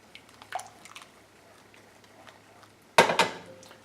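Melted butter being stirred into lemon pound cake batter in a bowl: sparse soft squishes and light utensil clinks against the bowl, ending in a sudden louder clatter and scrape near the end, with no talking.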